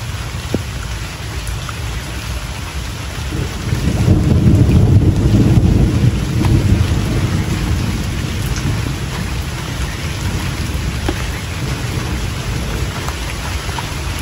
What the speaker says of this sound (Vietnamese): Ông trời mưa ngon lành luôn